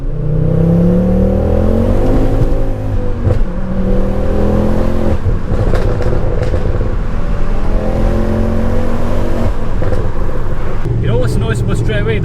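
A modified MK2 Ford Focus RS engine revs loudly and steadily, crackling with exhaust bangs and pops throughout, with someone talking over the car's noise.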